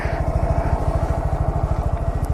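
A stunt motorcycle engine chugs in a steady, rapid low pulsing rhythm close by, as though held at low revs while the rider clutches up and balances the bike straight; no voices are heard.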